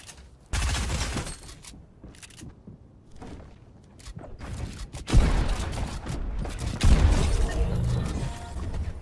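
Gunfire in the video game Fortnite with equalizer-boosted sound, heavy bursts of shots and booming impacts with short mechanical clicks between them, loud and close.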